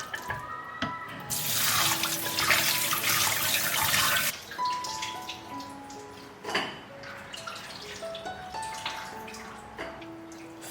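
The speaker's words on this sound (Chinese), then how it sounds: "再用清水冲洗2遍。" Pork ribs rinsed under a running kitchen tap, a steady loud gush of water splashing into the sink for a few seconds, then quieter drips, handling and water sloshing as the ribs are turned.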